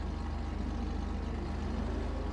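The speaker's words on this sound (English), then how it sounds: "that is the sound of a rotary engine" A steady, low, throbbing rotary engine idle of a Mazda RX-7 in GTA Online, with a fast even pulse, continuous and fairly close, no voices.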